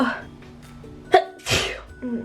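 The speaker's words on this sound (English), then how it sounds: "I have to sneeze" A single close sneeze with a quick breathy intake beforehand, loud and sharp, followed by a brief exhale.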